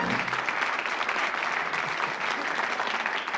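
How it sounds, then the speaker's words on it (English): A studio audience at the Bullseye game show claps loudly and steadily for two contestants, a dense, even wash of applause that holds for the full few seconds without any talk. "Give them a round of applause."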